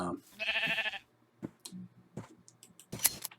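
A sheep in the video game Minecraft gives a short, close bleat, followed by a few scattered clicks and small taps in otherwise quiet surroundings.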